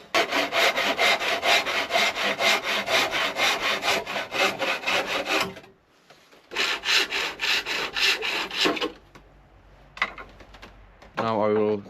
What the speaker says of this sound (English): Now we have to cut it. So I will use the same saw like before.